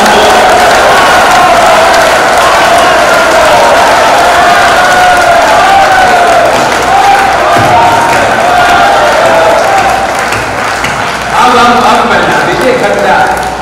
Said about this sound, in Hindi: एक बार पुरजोर तालियां, आकाश भर तालियां आसिफ मुरादाबादी के लिए बजा दें।